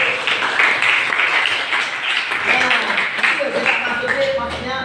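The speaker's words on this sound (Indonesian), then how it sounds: "Oke, tepuk tangan." Classroom applause during a teaching practice session, a steady burst of many hands clapping that stays dense and loud for several seconds, with voices mixed in underneath.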